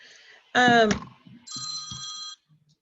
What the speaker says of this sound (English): the phone should start ringing any second here